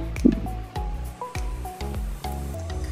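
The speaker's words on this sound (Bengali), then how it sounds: "মরিচ বাটা দিয়ে দিচ্ছি" Wet chili paste squelches into a pan of chicken liver curry, with soft squishing and dripping plops, then rhythmic stirring strokes through the thick mixture.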